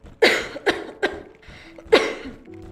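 A woman's series of harsh, raspy coughs, four or five bursts in quick succession with short gaps, close and fairly loud, ending in a strained breath.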